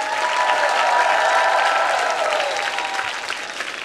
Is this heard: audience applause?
yes